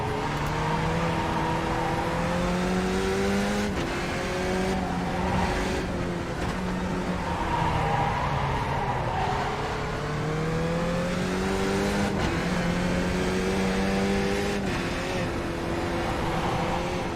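Simulated race car engines from the iRacing sim at Oran Park, loud and continuous, with repeated rising and falling revs as cars accelerate, shift and pass close by, with occasional tire squeal.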